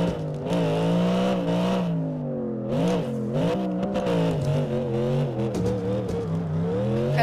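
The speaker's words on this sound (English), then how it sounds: "Like, actual proper drifting on a track." A car drifts around a race track in first person, its engine droning loudly and steadily as the revs rise and fall, with no voices.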